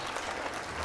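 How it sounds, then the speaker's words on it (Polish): Audience applause at a Children's Day event run by the Małopolska police, greeting Wawelek after a magic trick; a brief, dense burst of clapping from a crowd, steady throughout. "a Wawelkowi należą się wielkie brawa"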